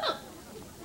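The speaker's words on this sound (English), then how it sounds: "When I get mad, I hiccup." A single sharp, voiced hiccup from a person at the very start, close and loud, followed by quiet room tone.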